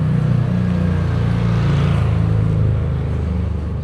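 A Yamaha Aerox motor scooter goes by on a Philippine neighbourhood street, its engine noise swelling to a peak near the middle and then easing off against a steady background of traffic.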